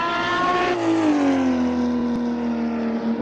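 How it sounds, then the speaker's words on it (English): A 1991 Ferrari Testarossa 512 flat-twelve screams loudly and steadily in a racing game, its pitch sliding down after a gear change and settling into a sustained high-revving drone with no talk. "it's the 1991 Ferrari Testarossa 512 with furious 425 horsepower"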